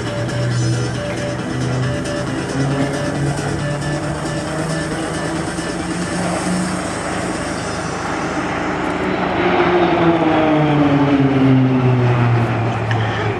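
RAAF Roulettes propeller aircraft flying an airshow display at RAAF Base Williamtown, a loud sustained engine drone that shifts in pitch as the planes pass, swelling louder toward the end, with a commentator talking over it.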